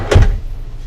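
A drawer in the bathroom of a 2020 Newmar Ventana 3407 RV slides shut with a single close, soft wooden thump.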